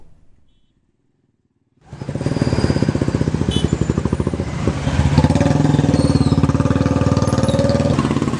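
Motorcycles in a voter-awareness bike rally in Mangaluru with over 200 riders, engines starting after a brief quiet then revving and rumbling loudly and continuously nearby, with a rising roar as more bikes join.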